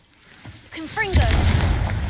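A Confringo fire spell blast in Hogwarts Legacy: a rising magical whoosh with tonal chirps builds into a loud, sustained fiery burst that roars on to the end, close and forceful.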